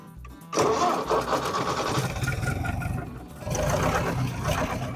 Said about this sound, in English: So let's get the tractor started up and let's do it.